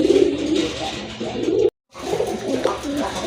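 Pigeons for sale coo softly and continuously in a close, murmuring chorus, broken by a brief silent gap partway through, with no talk.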